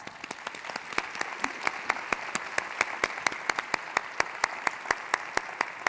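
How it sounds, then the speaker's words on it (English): Audience at a keynote lecture gives a round of applause, a steady run of sharp, evenly spaced claps over a broad wash of clapping, fairly close and moderately loud for about six seconds with no talk. "Let's give them a round of applause."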